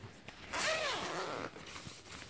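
One quick zipper pull opens a homemade fabric annex tent for a car, a close, bright rasp lasting about a second amid quiet surroundings.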